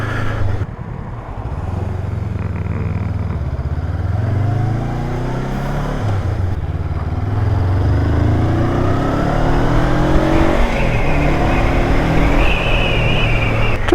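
A motorcycle rides through a street with speed bumps, its engine note rising and falling as it slows and accelerates, loud and close throughout with no voices.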